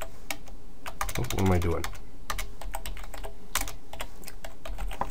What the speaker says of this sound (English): Sorry, I cannot type today.